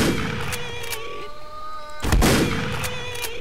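Shotgun blasts in the horror video game Grey, two heavy booms a couple of seconds apart over a droning tonal game soundtrack, loud and close.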